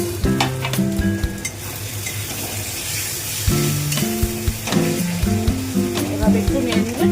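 Tomatoes are stirred and fried in spiced oil for a chicken dish: a loud, close sizzle with repeated spatula scrapes against the pan, over a layer of background music.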